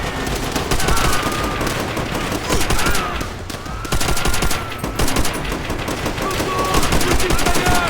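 Rapid machine gun bursts mixed with other gunfire and battle noise during a Call of Duty: World at War combat mission, loud and dense throughout with voices calling out beneath.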